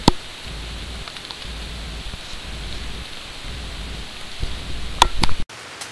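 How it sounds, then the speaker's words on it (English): Steady rain falls in the North Georgia mountains, a continuous hiss of drops on foliage and ground with a few louder close drips near the end, no voices. "The rain finally starting to let up."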